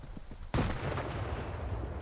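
A single loud grenade blast in S.T.A.L.K.E.R. 2 strikes suddenly after a quiet moment, followed by a rumbling roar and debris that fades slowly.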